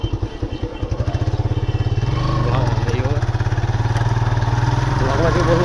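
A motorcycle engine runs while being ridden on a hot Chitwan road, a loud steady throbbing hum with a rising rev, as a voice speaks over it.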